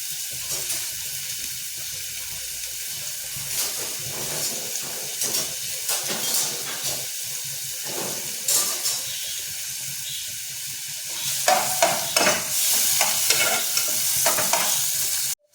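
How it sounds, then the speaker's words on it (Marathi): Chopped onion and curry leaves frying in hot oil in a pan, a continuous sizzle broken by repeated scraping stirs that grow busier and louder toward the end, with no talking. "आता आपण कांदा आणि कढीपत्ता टाकणार आहोत आणि नेहमीप्रमाणे कांदा भाजला तर आपण टॅमॅटो घालणार आहोत"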